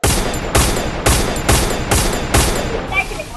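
Rapid gunfire in the mobile game Free Fire: six loud, close shots in a quick regular rhythm, each ringing out briefly before the next.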